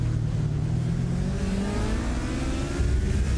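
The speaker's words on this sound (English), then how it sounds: "didn't sound like there was too much wheel spin there for Pascal 6" In iRacing at the Algarve International Circuit in Portimao, a race car engine accelerates with a rising, loud revving whine that climbs steadily in pitch, close and continuous with no speech.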